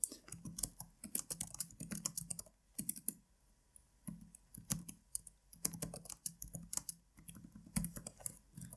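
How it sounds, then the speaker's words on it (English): Typing on a computer keyboard during C programming work, quick bursts of close, crisp key clicks separated by short pauses, with no speech. "But I will just type here"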